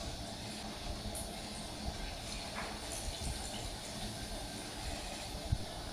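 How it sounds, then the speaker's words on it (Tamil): Spoonfuls of prawn kabab mixture frying in hot oil, a steady, dense sizzle and hiss that runs without break, fairly close, with no talking. "இப்போ நம்ம கலந்து வச்சுருந்த அந்த கபாபு கலவையை எடுத்து ஒவ்வொரு ஸ்பூனாக எண்ணெயில்"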